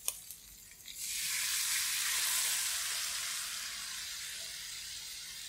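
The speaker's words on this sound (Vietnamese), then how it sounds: "Cái này mình xào khô cho nên mình không có để nhiều nước tương." Vegan papaya and snail salad ingredients stir-fried dry in a pan with a little soy sauce, a steady loud sizzle that jumps up after a second and holds as a broad hiss with faint stirring, no talking.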